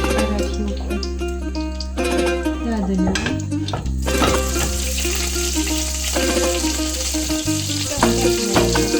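Butter frying in a pan, a loud steady sizzle and crackle throughout with a low hum beneath and a few brief clatters of cookware.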